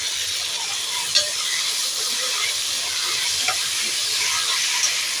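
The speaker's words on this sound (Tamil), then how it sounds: "இப்போ புதினாவும் கொத்தமல்லியும் உள்ளே போட்டுடலாம் போடுமா போடு போடு கரண்டி எடுத்து நல்லா கிண்டி விட்டு பார்க்கலாம்" Mint and coriander sizzle in a frying pan for chicken biryani while a ladle stirs them, so a steady hiss is broken by a few sharp metallic scrapes and taps.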